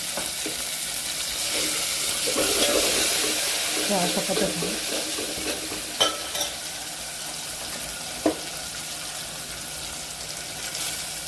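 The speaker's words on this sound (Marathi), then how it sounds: "टमाट्याला पण छान फोडून परतून घ्यायचं" Tomatoes sauté in a pan with coriander, a continuous close sizzle broken by scraping stirs and a couple of sharp spoon knocks against the pan.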